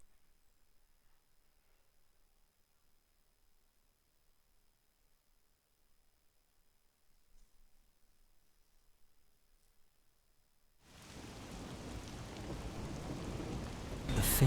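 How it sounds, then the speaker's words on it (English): Rain bursts in suddenly after a long near-silent stretch in the video game Master Detective Archives: Rain Code, a dense steady downpour that grows louder toward the end. "The faint sound of a ticking clock melts against the sound of rain."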